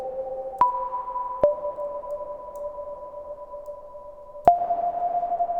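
Sustained synth tones with sharp clicks, played through an Ableton reverb, ringing in a long smooth tail with a fresh tone entering near the end; clean studio sound, no voices.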